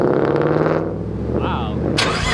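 A loud sports car engine at a drag race, one of a Nissan GT-R, Corvette or Infiniti Q60, revs and idles close by while people talk over it.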